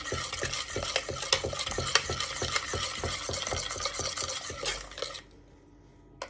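Gingerbread mixture is stirred briskly in a bowl, giving quick rhythmic scraping strokes, close and loud, that stop abruptly near the end and leave near silence.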